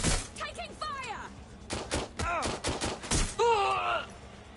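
Gunfire in the video game Watch Dogs Legion comes as loud, dense bursts of shots that overlap with strained voice-like cries and shouts, all close and continuous with no quiet gaps.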